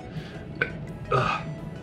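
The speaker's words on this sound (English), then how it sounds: "the burps are so thick" Thick burp after gulping sparkling water during a burping contest, a short deep gurgle near the middle followed by a louder, longer throaty belch, close and alone.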